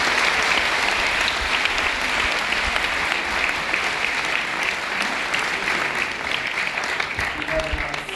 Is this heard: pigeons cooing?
no